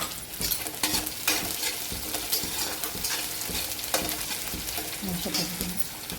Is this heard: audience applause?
no